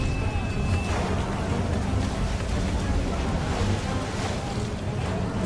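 A sailing ship in Assassin's Creed III creaks through water amid steady wind and wave wash, a dense continuous roar, with faint voices mixed in.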